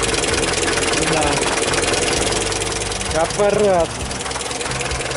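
GAZ 21 Volga engine idling in a continuous rumbling hum under loud, close talk, with a brief rev-like rise near the end.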